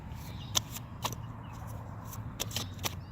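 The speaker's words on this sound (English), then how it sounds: "I'm going to shuffle this one for a minute." Tarot cards being shuffled by hand, a few soft, scattered flicks and taps against a quiet background.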